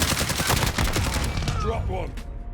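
Rapid automatic fire from a CR-56 AMAX assault rifle in Modern Warfare, loud and continuous bursts of gunshots with the crack of each round blurring together, then tapering off with metallic clinks and a fading echo.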